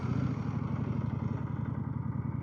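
A 2025 Indian Scout motorcycle engine idles after a push-button start, a steady low throbbing rumble with a faint mechanical clatter, even and continuous at moderate level.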